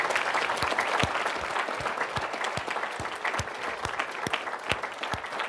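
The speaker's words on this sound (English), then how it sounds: "can I get a big round of applause, please, for our panelists today?" Sustained applause from an audience for panelists at a charity luncheon, dense steady clapping with a few sharper individual claps standing out, no talk over it.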